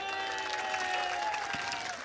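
Applause from an audience at an all-India mushaira poetry gathering in Govandi, a dense steady clapping that fills the whole stretch without pause, with a faint tonal hum running underneath.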